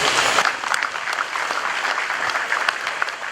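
An audience at the official opening of a Newmont Ahafo mine facility claps continuously, dense steady applause from a sizeable crowd for the whole stretch, with no voices standing out.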